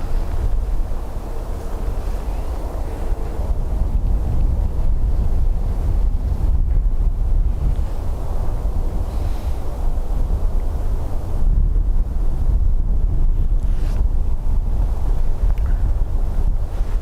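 Gusty wind at Dublin Airport buffeting the microphone, a loud, rumbling low-frequency roar that surges and eases in waves throughout, with no voices.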